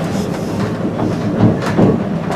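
A train rolls along the Lynton and Barnstable Railway line, its wheels giving a rhythmic clickety-clack over a continuous rumble, heard close and steady from aboard with periodic louder joints.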